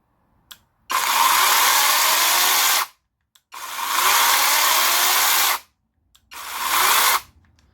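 A Parkside PPAGHS 20 Li A1 cordless pole chainsaw runs in three separate bursts, each a loud, steady high motor whir lasting one to two seconds before cutting off into silence.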